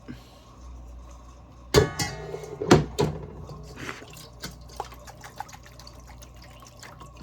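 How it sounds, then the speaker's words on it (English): Seasoned simmering liquid draining off cooked collard greens, with splashy pours and clatter around two seconds in, then lighter drips and trickles settling away, close by with no talk. "Shake it like that. Let it all drain off."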